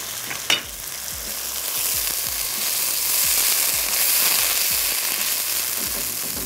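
Tomatoes sizzle and fry in a hot pan with a steady hiss, punctuated by a sharp initial clatter and repeated scraping stirs throughout, close and continuous without talk.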